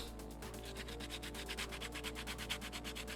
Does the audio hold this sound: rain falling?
no